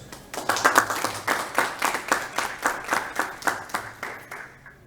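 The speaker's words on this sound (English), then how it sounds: "Let's give these folks one more round of applause." A small audience at a senior adults organization's annual meeting claps for staff, a rhythmic round of fairly steady, distinct claps close by that fades out at the end.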